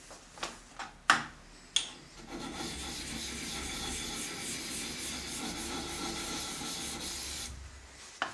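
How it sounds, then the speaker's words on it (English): A hand scraper works a metal adjustable angle plate on a bench: a few sharp separate strokes at first, then a long continuous rasping scrape for about five seconds, close and fairly quiet. "do a few passes with the scraper"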